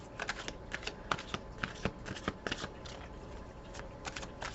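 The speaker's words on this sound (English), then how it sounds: "Hear me shuffling in the background." Soft, rapid riffling and flicking of cards being shuffled, steady papery clicks and swishes repeating close by with no voices.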